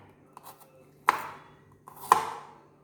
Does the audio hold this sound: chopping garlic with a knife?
yes